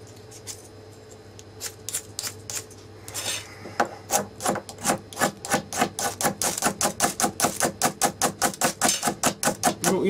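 Rapid rhythmic scraping strikes of an aluminium magnesium fire starter, a steel dragged across the rod to throw sparks, starting sparse and then speeding into a steady run of sharp rasping strokes, close and fairly loud with no talk.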